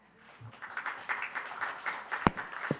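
Faint, light applause from an audience at a National Assembly forum, scattered claps building gently with a couple of sharper nearby claps toward the end.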